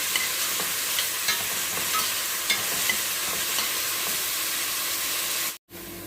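Onions sautéing in a pan for a rice and tilapia dish give a steady close hiss, broken every second or so by soft scrapes and taps of a utensil stirring them; the hiss cuts out sharply near the end.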